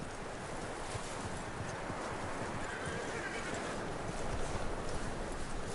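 Horse hooves and a whinny from the Red Dead Redemption II video game, steady clip-clop under a constant windy outdoor wash, with the texture thickening slightly near the end.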